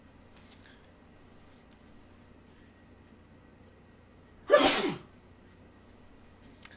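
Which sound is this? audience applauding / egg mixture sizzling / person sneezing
person sneezing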